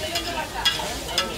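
Eggs fry on a griddle at a Darjeeling street food stall, giving a steady close sizzle with a few brighter spatters and scrapes over about a second and a half.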